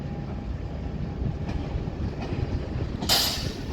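A TGV high-speed train at Paris Gare du Nord on the LGV Nord line rumbles steadily through the station, with a low continuous roll, faint rail clicks and a brief bright screech near the end.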